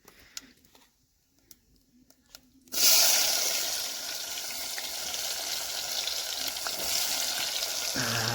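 Onions and tomatoes hit hot oil with cumin in a pot, and after a near-silent opening with a few faint taps, a loud sudden hiss breaks out and settles into a sustained sizzle.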